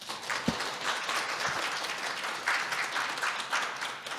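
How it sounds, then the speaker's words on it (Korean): An audience at an academic forum lecture applauds, with dense, steady clapping from many hands filling the room throughout, a few sharper claps standing out near the start. "마찬가지로 박수로 맞이해 주시기 바랍니다."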